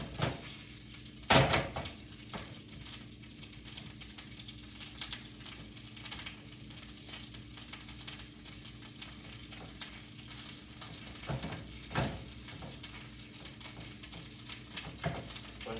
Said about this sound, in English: Chorizo splatters a lot when you cook it, so note that.